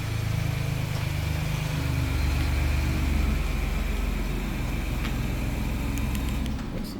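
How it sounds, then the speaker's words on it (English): A 2023 Ford Bronco Badlands engine, started by remote, runs at a steady, fairly loud idle close by. The low rumble holds for about six seconds and then begins to drop off near the end. No one speaks. "press that twice, and the vehicle will fire right up for us"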